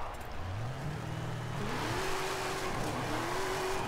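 A 1500-horsepower Barracuda in Forza Horizon 5 accelerates hard, its engine note climbing steadily through the gears with a short dip at a shift, loud and continuous with tire noise underneath.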